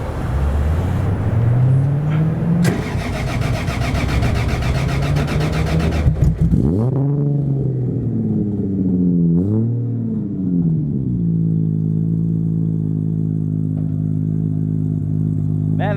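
A Nissan Silvia S15 fitted with a 2JZ turbo engine and a 4-inch exhaust revs hard and loud, its pitch sweeping up and falling back several times before settling into a steady, rumbling idle.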